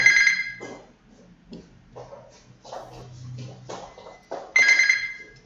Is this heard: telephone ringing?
yes